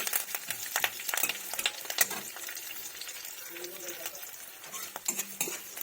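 Curry leaves and dried red chillies frying in a pan for a bottle gourd dal, with crackling oil, scraping stirs and light utensil clinks throughout.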